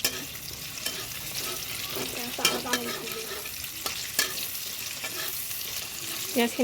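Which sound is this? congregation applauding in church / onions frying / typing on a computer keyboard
onions frying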